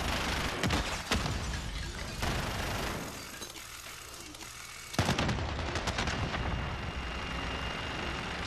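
Juggernaut machine gun in Modern Warfare on the Crash map firing in long, loud sustained bursts, a pause in the middle, then another heavy burst of rapid gunfire.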